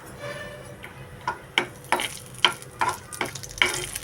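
Dry fruits frying in a hot pan, with repeated scraping and clicking stir strokes about every half second over a soft, steady sizzle, close and moderately loud.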